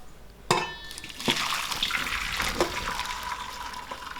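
Boiled vegetable noodles are tipped into a strainer, a sudden splash of hot water followed by a steady, close pouring and trickling as the liquid drains through the mesh.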